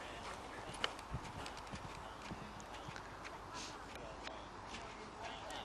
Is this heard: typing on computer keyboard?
no